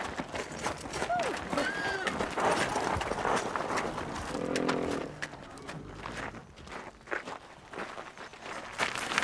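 A horse gallops off, quick hoofbeats pounding amid rustling and commotion in a period English countryside setting, while people speak over the scene.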